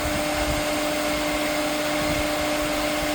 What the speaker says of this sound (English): Now it takes about a minute or two for the timer to expire before the cleaner will come back on.